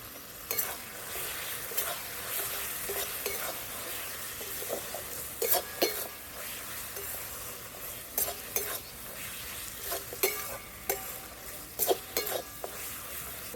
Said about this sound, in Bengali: খুব ভালো করে কষে নিচ্ছি